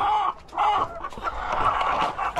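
A hen clucks repeatedly and fairly loudly at close range while her freshly laid egg is collected from the nest, the calls coming in uneven bursts with no talking over them.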